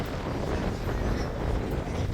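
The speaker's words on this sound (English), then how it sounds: "Very windy on this side of the boat." Strong wind on a P&O ferry's deck buffets the microphone in a constant roaring rush, with a low engine-like rumble beneath it.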